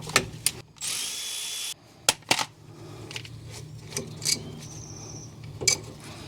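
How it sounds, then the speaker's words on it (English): A power drill or impact driver loosens the 13mm caliper slide pin bolts on the front brakes of a 2014 Mazda 3 2.5L, heard as one sustained whir followed by sharp clicks and clunks as the bolts come free. "Now we need to loosen and remove these two caliper slide pin bolts, and those are a 13mm."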